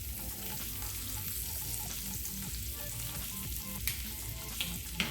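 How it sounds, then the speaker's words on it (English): Deer sausage brats sizzle steadily in a frying pan, a dense close crackle with a few sharper pops near the end. "So I'll go ahead and get the brats in there."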